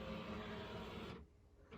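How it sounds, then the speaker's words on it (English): A home office printer whirs steadily for about a second, then cuts off abruptly, leaving a quiet room; the sound is faint throughout. "it's my printer"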